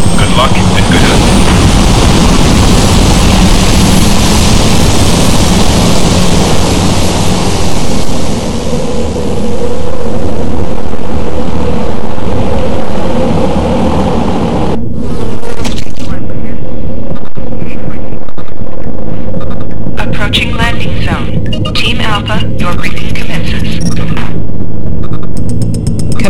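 Loud, sustained jet-like engine roar of an aircraft taking off in the strategy game Warzone 2100, a broad rumble that rises then thins, with radio-style voice chatter over it in the latter half.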